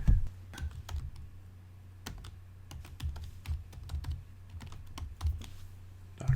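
Fingers tap steadily on a computer keyboard while editing titles in Avid Media Composer, crisp close clicks arriving in irregular bursts with short pauses between them and no voices.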